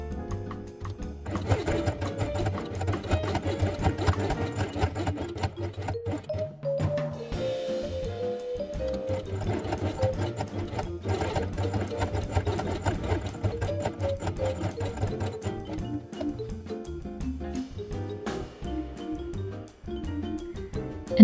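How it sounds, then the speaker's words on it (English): A sewing machine stitches along the top edge of fabric for a quiet book page, a steady rapid mechanical whirring that runs continuously with brief pauses and speed changes. "Then sew the top edge with a margin of about 3 mm."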